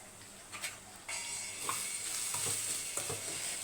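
Semolina being dry-roasted with salt in a pan is stirred, giving soft scraping strokes and a light, continuous sizzling hiss at moderate volume with no voices.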